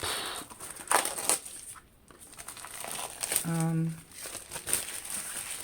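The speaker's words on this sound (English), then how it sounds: "I just can use my cutter and cut here without just touching the paper at the back side." A craft cutter slices through paper, giving crisp crinkling scrapes in short bursts, with a brief tonal beep partway through.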